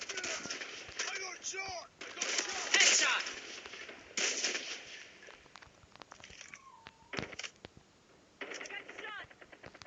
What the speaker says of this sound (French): si vous entendez un chat, c'est normal, c'est mon chat